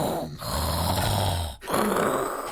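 People imitate snoring with their voices, making two long, loud, rasping snore sounds split by a short breath, close and with no other sound.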